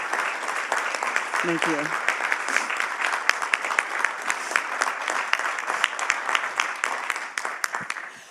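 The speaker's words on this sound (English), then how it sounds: "I just ask you to stand for a moment so that we can applaud you." An audience breaks into sustained applause at a Human Rights Commission meeting honoring retired co-presidents, dense steady clapping filling the room throughout while a voice briefly speaks over it.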